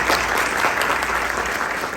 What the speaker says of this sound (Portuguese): Vamos dar uma salva de palmas para Plínio.